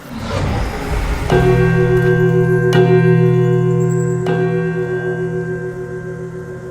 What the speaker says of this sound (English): Once you're ready, we'll need to ring the bell.